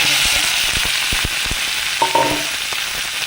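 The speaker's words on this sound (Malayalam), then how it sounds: "കടുക് പൊട്ടി വന്നു അപ്പോൾ അതിലേക്ക് ഇഞ്ചി പച്ചമുളക് കറിവേപ്പില സവാള നമുക്ക്" Ginger, green chilli, curry leaves and onion fry in hot coconut oil in a steady, close sizzle, with a few sharp pops and the brief scrape of stirring.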